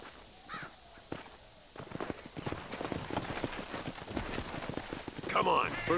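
Horse hooves clip-clop at a walking pace in the Western world of Red Dead Redemption, a steady rhythmic patter that builds louder over several seconds alongside faint ambient game sounds.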